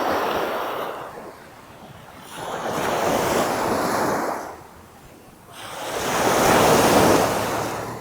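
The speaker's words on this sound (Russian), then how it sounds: "Море выглядит следующим образом." Sea waves roll onto the beach at Jomtien, Pattaya in slow, loud surges, three broad swells building and receding under steady wind noise on the microphone.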